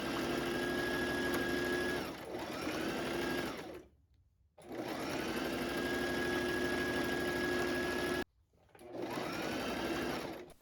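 A sewing machine runs in long continuous bursts of fast stitching on Rosalina beach coverup fabric, loud and close, with brief pauses between runs.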